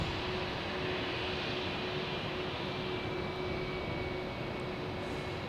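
An airplane engine at Boston Logan Airport gives a steady, loud roar with a sustained whale-like tonal whine running through it, and no voices are heard.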